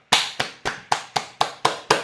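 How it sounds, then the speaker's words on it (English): Eight sharp, evenly spaced claps in a slow rhythm, close and distinct with nothing else around them, from a small audience at a performance seminar. "round of applause for Emma"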